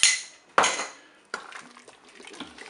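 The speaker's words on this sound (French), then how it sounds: "Je mélange." Tomato paste stirred into a dish in a Cookeo multicooker, a few sharp metallic clanks of a spoon against the pot followed by softer scraping, close up.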